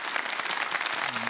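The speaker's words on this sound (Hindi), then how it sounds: "तालियां बजाने बहुत सारी।" Studio audience at a televised quiz competition bursting into applause, a brief burst of dense, loud, continuous clapping from many people at once.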